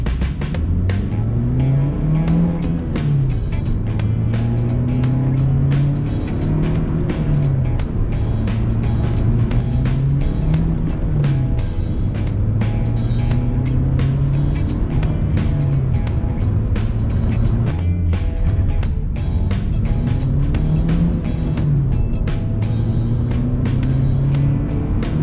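A Honda Civic budget build driving steadily, its engine note holding close and loud throughout with repeated rising pitch sweeps as it revs through gears, under continuous road and wind noise and no talking.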